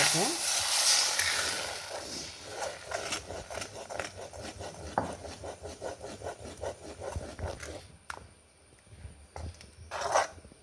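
Food sizzles and crackles in a hot kadai on the stove, with repeated scraping and tapping as it is stirred.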